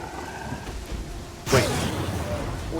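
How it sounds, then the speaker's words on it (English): A lightning bolt striking in the Pathfinder: Kingmaker role-playing game, a sudden loud crack and rumbling thunder bursting over steady rain ambience, with no talk. "Oh, lightning is actually striking us."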